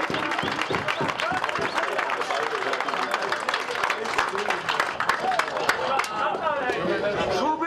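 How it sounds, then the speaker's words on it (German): An audience at a football club's season-end celebration claps in a dense, sustained round of applause, mixed with crowd chatter and voices, fading slightly toward the end. "Applaus!"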